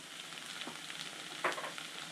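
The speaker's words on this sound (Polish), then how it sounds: "i wszystko mieszamy razem." Herring and spices such as allspice and pepper being mixed together in the Kashubian style: a soft, continuous hiss broken by a few light scrapes and one brief louder clink, fairly close, with no talking.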